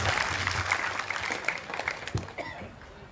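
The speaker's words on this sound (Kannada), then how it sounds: "ಕೆಲಸ ಮಾಡೋರಿಗೆ ನಾವೊಂದು ಧನ್ಯವಾದವನ್ನು ಚಪ್ಪಾಳೆ ಮುಖಾಂತರ ನಾವು ಅವರಿಗೆ ಒಂದು ಅಭಿನಂದನೆಯನ್ನ ತಲುಪೋಣ" An audience claps in thanks to journalists at a news event, a brief spell of moderately loud, scattered applause that fades off toward the end.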